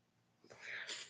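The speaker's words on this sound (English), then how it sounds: "I'm going to sneeze." A single close sneeze, a sharp quick intake followed by a breathy burst, with nothing else around it.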